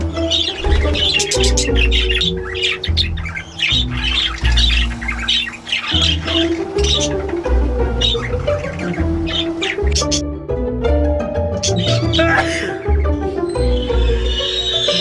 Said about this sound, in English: Let's move on to the budgie and cockatiel aviary now.